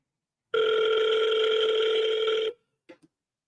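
One long, steady telephone ring tone sounds on a redialed call for about two seconds, clear and close, followed by a couple of faint clicks.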